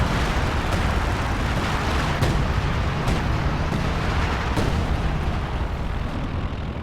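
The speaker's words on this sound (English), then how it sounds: "Oh, that's a scavenger artillery barrage." Scavenger artillery barrage in Company of Heroes 2: a continuous roaring rumble of shelling with scattered sharper impact blasts, fairly loud and steady throughout, with no voices.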